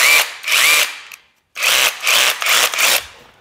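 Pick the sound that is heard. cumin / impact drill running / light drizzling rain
impact drill running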